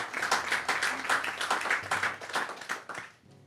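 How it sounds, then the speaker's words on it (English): An audience at a live music gig in Margate claps and applauds, with a dense burst of many hands that fades out after about three seconds. "Can we give Morag and CJ another big round of applause?"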